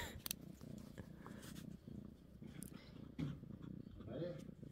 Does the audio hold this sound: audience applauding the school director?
no